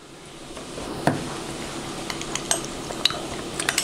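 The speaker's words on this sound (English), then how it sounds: "And then I carefully mix the cornstarch into the fresh lemon juice until it is smooth" A spoon mixing cornstarch into fresh lemon juice makes light, scattered clinks and scrapes against a bowl, growing more frequent toward the end over a faint steady background.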